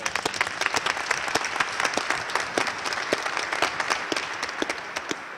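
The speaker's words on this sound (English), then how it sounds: "I want one more round of applause for someone who's not at this table" Sustained applause from a committee meeting audience, steady dense clapping with sharper individual claps standing out, moderately distant and continuous throughout with no voices.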